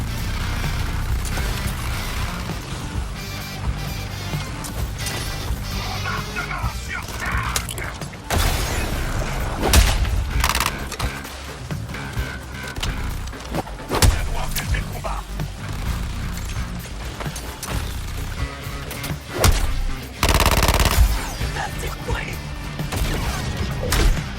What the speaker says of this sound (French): Grenade dans les airs.